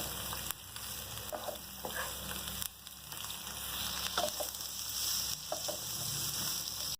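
Vegetables for chicken gola kebabs fry in a pan with a constant low hiss and a few soft stirring knocks, fairly quiet and close, no voices.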